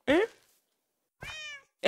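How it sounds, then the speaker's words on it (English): Two short cat meows from the game Minecraft, each a clear tonal call, separated by a pause of about a second, close and loud with no talk over them. "And the kitties are getting annoying."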